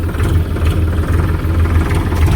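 A tractor engine runs steadily nearby while loading cotton on a farm, with a low, throbbing rumble and a constant mechanical drone.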